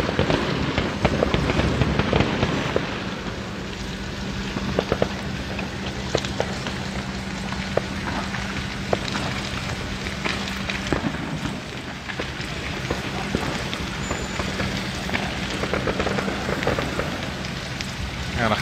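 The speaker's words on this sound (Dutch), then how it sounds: "Ontzettend veel vuurwerk en ook keiharde knallen." Fireworks crackle and pop nearby beside a building fire, with dense continuous crackling broken by occasional sharper bangs and a faint steady tone in the background.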